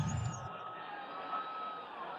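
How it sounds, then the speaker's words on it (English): Stadium crowd at a Seahawks versus Buccaneers NFL game, a steady distant roar of many voices with a brief cheer at the start, faint and continuous. "You can hear the crowd noise in the background."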